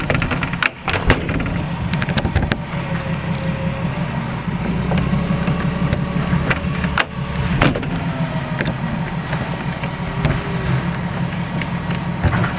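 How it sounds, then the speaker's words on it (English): Small camper keys jangle and clink repeatedly, close and fairly loud, as they are tried one after another in a lock, with metallic rattles and scrapes over a steady low background hum. "we have some camper keys here. These little guys here. We gotta test them, make sure they all fit"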